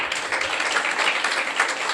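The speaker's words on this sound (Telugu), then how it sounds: "చప్పట్లు కొట్టండి ఒకసారి." A church congregation claps together in a dense, continuous burst of applause that fills the room evenly for a couple of seconds.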